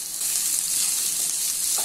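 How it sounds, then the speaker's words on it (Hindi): Onions fry in a kadai over a medium flame, giving a steady, close hiss and sizzle with no pauses and no voices. "अभी इसको मीडियम फ्लेम पे 3 से 4 मिनट तक फ्राई कर लेना है,"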